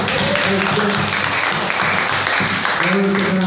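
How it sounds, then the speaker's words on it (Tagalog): A church congregation claps loudly and continuously in praise, a steady dense patter with voices talking and singing over it. "tayo nga po ay pumalakpak muna ng malakas ng Diyos."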